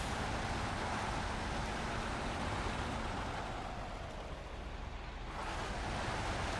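A truck in SnowRunner ploughs through a river, giving a constant rushing wash of water and engine rumble that dips briefly before swelling again.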